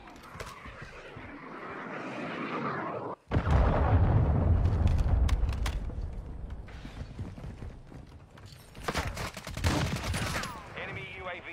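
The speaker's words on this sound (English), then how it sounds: "Hostile cruise missile incoming." Video game combat with a cruise missile strike: a sharp cut to silence, then a heavy explosion rumble, followed by bursts of rapid gunfire and mechanical clatter, with game voice announcements mixed in.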